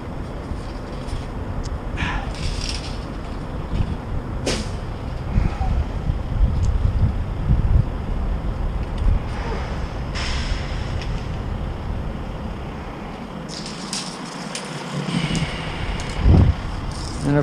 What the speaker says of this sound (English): as soon as I decided to measure, the wind picked up